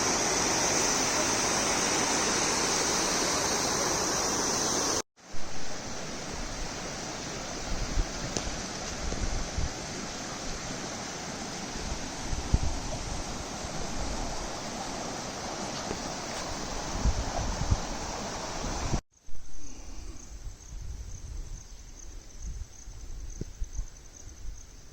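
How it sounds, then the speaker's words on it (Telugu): Water pours down the stepped spillway of the Bhumireddy Palli dam near Chittoor, a loud steady rushing roar with wind buffeting the microphone, cut off by two abrupt breaks. "చూడండి వాటర్ ఎలా ఫ్లో అవుతుందో కిందకి."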